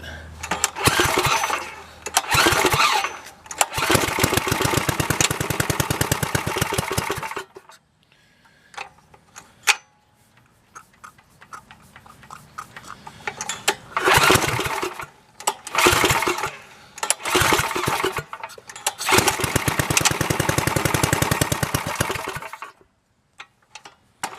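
A Tecumseh 8hp go-kart engine cranks and sputters into life in several loud bursts of rough, rapid running. Near-silent gaps separate the bursts, and it settles into longer runs toward the end.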